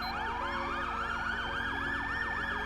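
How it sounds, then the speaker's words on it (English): GTA 5 police siren with a secondary tone layered in, a loud continuous wailing yelp sweeping rapidly up and down over a steady rising tone, like a dual siren. "It gives you a secondary siren to almost sounds like a dual siren"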